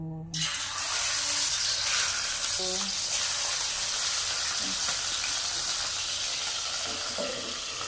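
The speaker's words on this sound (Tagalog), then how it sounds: "Magprito tayo guys ng isda. Ito naman ako magpiprito." Fish sizzling loudly in hot oil in a pan, a steady close crackle with a few faint clinks, running throughout with little talk.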